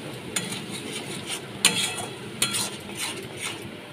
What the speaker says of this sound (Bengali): এর মধ্যে স্বাদ মতো নুন দিয়ে দিলাম, এক চামচ জিরে গুঁড়ো দিয়ে দিলাম। ভালো করে কষিয়ে নিচ্ছি।